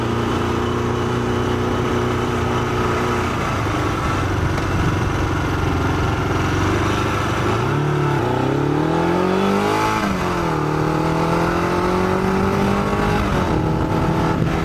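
A custom Yamaha XJ600 motorcycle engine runs loud and close while riding, a steady drone that rises and falls as the revs climb and drop around the middle before settling back.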